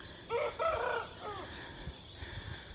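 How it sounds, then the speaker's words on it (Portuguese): Small birds chirp and tweet outdoors beside a walking path near a house under construction. Quick, thin high calls come in a short cluster near the end, over faint background noise and a brief murmur of voice. "Aqui tem uns passarinhos, mas não tá dando pra ver na lente."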